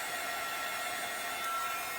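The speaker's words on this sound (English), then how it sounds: "Let me heat set this first." Heat gun blowing over paint to heat-set it, a steady close hiss of rushing air without pauses.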